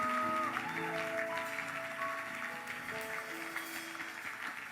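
A church congregation applauds for Jesus, sustained clapping from a crowd that carries through the whole moment, with sustained musical tones ringing underneath.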